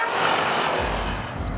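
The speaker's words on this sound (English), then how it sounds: "Double-decker train. A passenger train with two level carriages, increasing seating capacity, and ideal for busy commuter routes." A double-decker passenger train rumbles past in a steady, dense roar with a deep low-end swell partway through, no voices over it.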